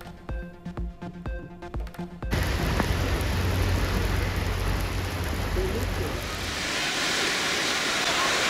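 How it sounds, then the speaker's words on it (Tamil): Heavy rain pours down in Ooty in the Nilgiris, a loud, steady broadband roar of downpour that swells slightly louder toward the end, following a brief burst of tonal music at the start. "நீலகிரி மாவட்டம் உதகையில் கொட்டி தீர்த்த கனமழை"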